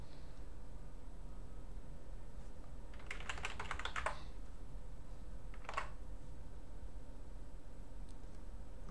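Rapid keystrokes on a computer keyboard while a command is entered on a Linux system, a dense burst of clicks followed by a shorter second burst, over a steady background hiss with no speech.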